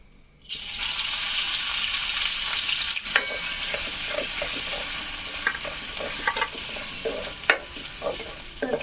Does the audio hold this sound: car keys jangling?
no